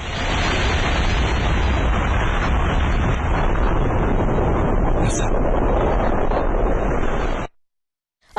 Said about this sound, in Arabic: فأتى الانفجار يوم الثالث عشر من فبراير بهذه القوة